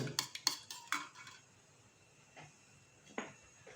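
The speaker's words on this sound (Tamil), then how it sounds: "வேறு முட்டை கலக்கிட்டு இருக்கிறாங்க" Eggs for an omelette are beaten in a bowl, heard as a handful of sharp utensil clinks and scrapes, closely spaced at first and then sparse, quiet and without talking.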